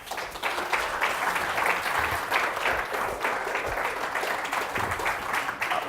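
Steady applause from an audience, dense and continuous for several seconds with no pauses or talking.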